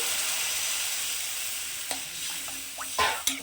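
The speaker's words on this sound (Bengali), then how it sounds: "এর মধ্যে পরিমাণ মতন জল দিয়ে দিচ্ছি" Water poured into a rohu fish curry with green banana and potato frying in oil: a steady hiss of sizzling that swells into a burst of spattering and bubbling near the end, no talk.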